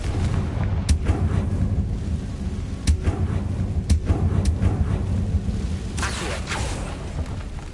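Confringo spell blasts in Hogwarts Legacy boom as heavy explosions over a constant low rumble, with several distinct sharp impacts spread across the stretch and a rushing burst near the end.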